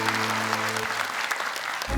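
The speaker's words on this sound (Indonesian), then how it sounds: "Tepuk tangan dong" Studio audience on a TV show clapping briefly, with a sustained musical tone underneath that cuts out partway through.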